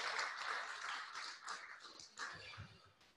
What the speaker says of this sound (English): Let's give our executive director, Betty Overstreet, a round of applause.